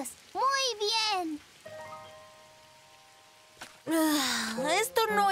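Light rain patters softly in the background while high, animated voices talk over it in short bursts, with a quieter pause between.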